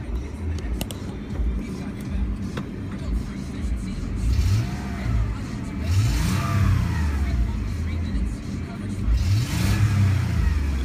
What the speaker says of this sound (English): We'll rev it up a little bit here.